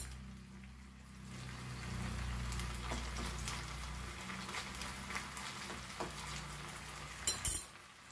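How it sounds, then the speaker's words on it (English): Whole spices frying in hot pork fat for a Goan pork roast, a soft steady sizzle with low pan rumble, a few faint clinks of utensils, then a brief louder clatter near the end; no talking. "So now I will put my whole masalas in this, whichever that fat is there, and let it get fry in that."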